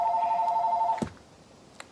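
A phone chimes with a Snapchat message notification, a bright two-tone ringing that holds steady for about a second and then cuts off with a soft knock, followed by near silence.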